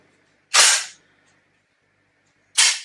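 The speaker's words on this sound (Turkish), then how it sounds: "Hemen bir tetik ağırlığına bakıyoruz." A Doxcarms MXX-4 blank pistol's trigger is pulled twice, each pull giving a sharp, loud crack with a brief decay, about two seconds apart in otherwise near silence.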